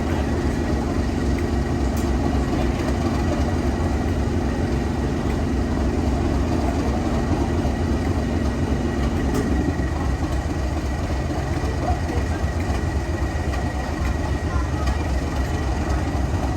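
Betton Grange steam locomotive stands at Weybourne Station, giving off a continuous low rumble and steady hiss with faint mechanical ticks, unbroken for the full length.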